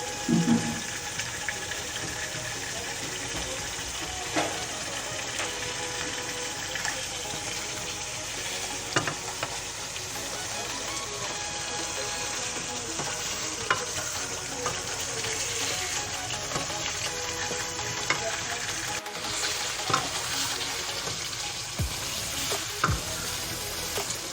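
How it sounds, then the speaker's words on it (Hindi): Chicken tikka karahi sizzles steadily in a pan over high heat as its watery masala cooks down, with a dense, even frying hiss, faint stirring clinks and occasional sharp pops throughout, with no talking. "इसमें जो हल्का हल्का पानी अभी हम इसको तेज़ आंच पे खुश्क कर लेंगे।"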